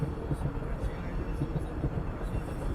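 Steady low rumble of a subway train in motion, a continuous muffled roar filling the clip from start to finish with no voices over it.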